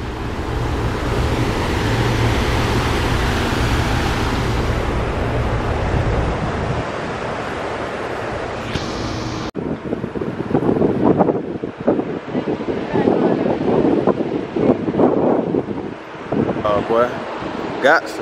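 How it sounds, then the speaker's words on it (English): Wind buffets the microphone over a steady wash of ocean surf on a cruise to the Bahamas, with people talking intermittently in the second half. "You can hear the ocean too."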